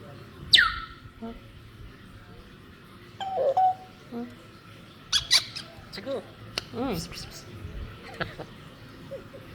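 Sharp, high squeaky chirps from a small pet talking parrot come in scattered bursts, mixed with talking and some handling noise.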